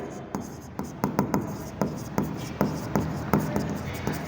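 Pen or chalk writing on paper or a board, a rhythmic series of about a dozen short, crisp strokes and taps, close and clear, with no talk.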